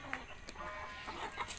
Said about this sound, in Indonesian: Udah ayamnya tadi satu lagi ngerem mau nelor.